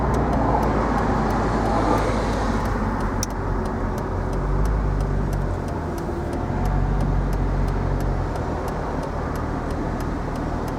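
A 2003 Mercedes SL55 AMG cruises through heavy traffic, its engine and road noise forming a steady loud rumble from inside the car, with faint regular ticking throughout and no talking.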